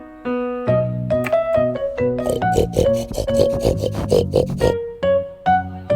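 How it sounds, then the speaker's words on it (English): A pig grunts and oinks in a rapid run of rough, snorting bursts over background music, fairly close and loud. "pig,"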